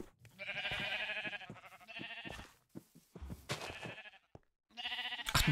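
Sheep bleat repeatedly in Minecraft, a series of wavering, nasal bleats in several bursts separated by short pauses, moderately loud with no talk over them.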